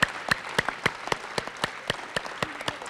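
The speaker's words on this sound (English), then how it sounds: "So round of applause for all of our retirees." A small scattering of applause for retirees at a college awards ceremony, sparse individual claps at an uneven rhythm, fairly quiet and thin rather than a full crowd.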